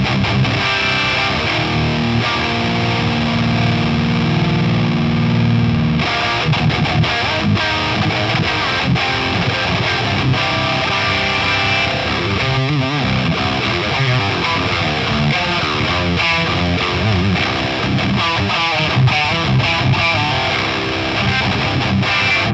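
An electric guitar runs through the pedal section of the Nembrini Coreblade plugin with the drive off, giving a loud, steady clean-to-edgy tone of continuous strummed chords and riffs for the whole stretch, with no talking.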